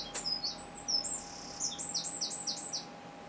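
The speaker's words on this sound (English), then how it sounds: "beautiful bird singing" Wild birds sing outdoors in a series of high, repeated whistled phrases that rise and fall in a steady rhythm. The song is fairly soft and set against a quiet background with a faint constant hum.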